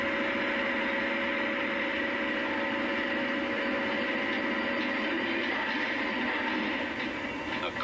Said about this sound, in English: Every engine is given a thorough 80 minutes test before being fitted into a tractor.